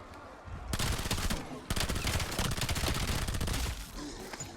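Rapid automatic rifle fire from an AR in Black Ops 7 Zombies, loud dense bursts with a brief pause near the start and another short break before firing resumes, continuing to the end.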